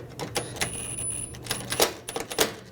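Screws are tightened on the intercooler of a 2009-2017 Volkswagen Tiguan, producing a few sharp metallic clicks and ratcheting taps, close and quiet, spaced irregularly.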